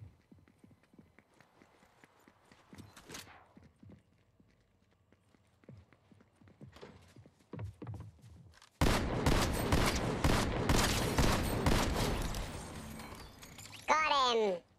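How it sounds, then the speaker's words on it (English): Rapid gunfire bursts in Fortnite come in after quiet speech and movement, loud and dense for several seconds, then a short final burst closes it out. "I'm ready to shoot down!"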